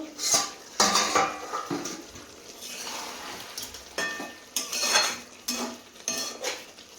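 A spoon scrapes and clanks against a metal pot while meat curry is lifted and stirred. It makes repeated close, bright clinks and scrapes in irregular bursts over a faint sizzle.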